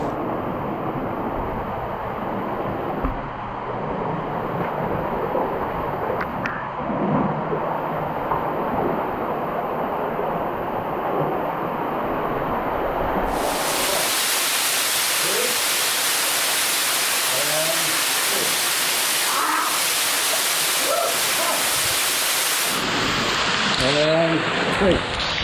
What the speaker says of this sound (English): All right, here we go. We're going underneath the falls.